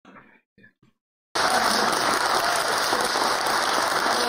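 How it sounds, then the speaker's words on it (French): An audience bursts into loud, dense applause after a brief quiet stretch with a few faint murmurs, the clapping sustained and even until the end. "Les gens applaudissent."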